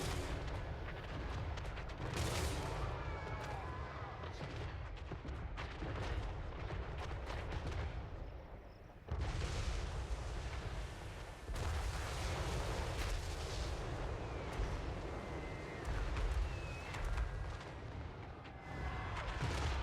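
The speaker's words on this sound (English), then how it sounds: "Machine guns will handle it." Machine guns fire during a Total War Warhammer 3 battle: dense, sustained gunfire and booming blasts roar loudly and almost continuously, with a brief dip partway through.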